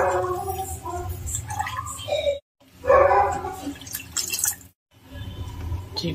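Water poured into a pot of mutton kulambu, splashing and gurgling liquid in a couple of bursts separated by short silences, close and fairly loud.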